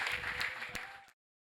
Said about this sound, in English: round of applause for Maria.